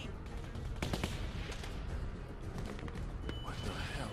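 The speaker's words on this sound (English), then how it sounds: "Give me another gun. Let me go shoot." Gunfire in The Walking Dead Season 2 video game, several sharp shots and bursts crackling over a dense, busy background of game sound, with voices talking in between.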